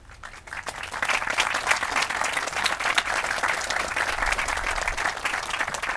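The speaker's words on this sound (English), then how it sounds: "so we can give you a round of applause?" Audience applause at an Army change of command ceremony, rising quickly and then holding as steady, even clapping from a sizable crowd with no talking over it.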